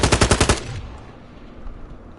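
A quick burst of about six rapid AK rifle shots from the MW2 beta video game, loud and punchy, then a fading reverberant tail and quiet game ambience.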